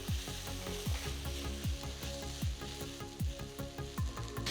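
Golden sautéed onions and ginger paste sizzle steadily in a pan for a restaurant-style Hyderabadi mixed-vegetable handi curry, with repeated rhythmic scraping strokes of stirring over the continuous frying hiss and no talking.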